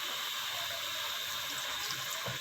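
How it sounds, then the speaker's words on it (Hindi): Water is poured into a pot of potato and brinjal curry, a steady, close hiss of running liquid lasting throughout with no pauses. "थोड़ा सा इसको हम पानी लगाएंगे"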